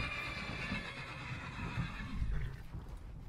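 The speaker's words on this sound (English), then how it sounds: "I brought my horse." A horse neighs and whinnies in the Skyrim video game, a loud drawn-out call over a busy low rumble, with heavy thuds of hooves near the end.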